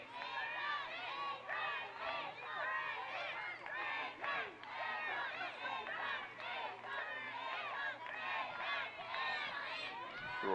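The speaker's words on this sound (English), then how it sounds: "The Royals cheering their teammates on at the draw as Youngblood gets the draw control for the" Spectators at a women's college lacrosse game cheer and shout continuously for their teammates during a draw, a dense, lively crowd roar with overlapping voices sustained throughout.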